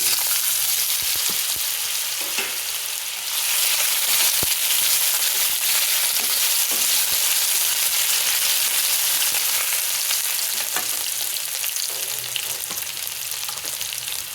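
Potatoes fry in a pan with a loud, close, steady sizzle and a bright crackling hiss, broken now and then by light stirring clicks.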